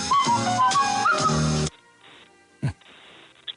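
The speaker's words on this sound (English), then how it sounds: "That is a whistle." A person whistles a bright, melodic tune up close for about a second and a half, then it stops, leaving faint room noise and a single knock.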